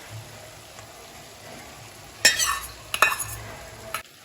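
A spoon stirs and scrapes a spice masala with softened onions in a pan for a restaurant-style paneer cheese masala: quiet sizzling underneath, then three sharp, close bursts of metal scraping near the end, with no voices.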